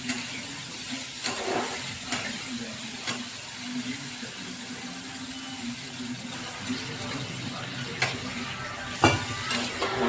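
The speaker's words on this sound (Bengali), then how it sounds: "আমি অল্প করে জল দেবো দিয়ে মাখা মাখা বানাবো" A little water goes into spice paste frying in oil for a soybean and potato kofta curry, producing a steady sizzle with occasional utensil knocks and stirring scrapes.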